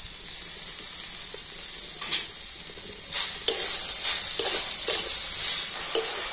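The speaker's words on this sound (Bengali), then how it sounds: "তো চিনি আর নারকেলটা একটু নাড়িয়ে চাড়িয়ে নিয়ে" Grated coconut and sugar being stirred in a hot wok, a steady hissing sizzle with scattered scraping spoon strokes that grow busier midway, close and fairly loud with no talking.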